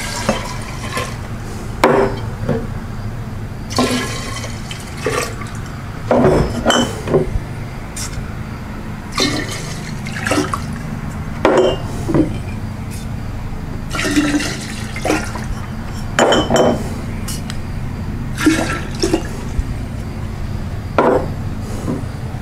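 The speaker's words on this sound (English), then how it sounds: "we got all our distillate mixed together" Wheated bourbon distillate poured and mixed together in a mixing jar, a steady watery trickle with repeated splashes and clinks of glass, close and fairly loud throughout, no talking.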